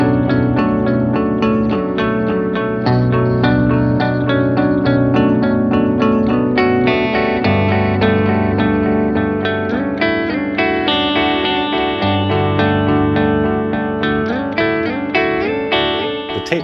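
Sustained guitar chords wash together under a thick, swirling reverb from an effects pedal, notes blurring into a dense, lingering soupy tail as they decay.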